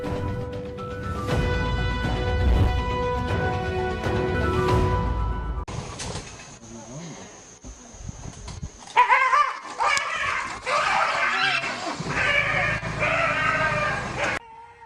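A dog barks and whines near a leopard in a short clip, with a steady harmonic cry at first, then scattered yelps and animal sounds mixed with background noise.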